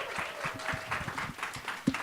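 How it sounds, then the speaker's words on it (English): Audience applause at a Canadian Club panel event, soft and distant, a steady patter of many hands clapping with a few sharper taps standing out. "Let's give them a round of applause."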